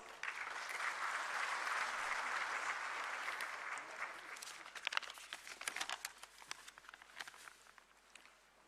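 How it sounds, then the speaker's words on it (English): An audience at a National Human Rights Commission function gives a welcoming round of applause, dense and full at first, then thinning into scattered claps and rustling as it dies away. "I request you all to kindly give him a welcoming round of applause"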